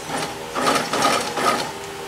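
A sewing machine backstitches a narrow fabric strip, a steady mechanical whir with rhythmic needle clatter that swells in three short bursts, close and alone.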